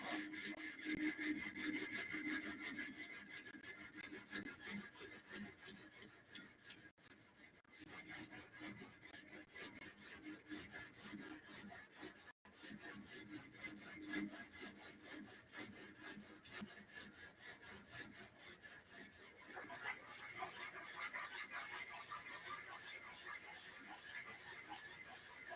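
Steady, continuous rasping of sandpaper rubbed against the wooden tenon of a briar pipe, close and fairly quiet, running in a rhythmic back-and-forth scrape with one brief pause partway through and no talking.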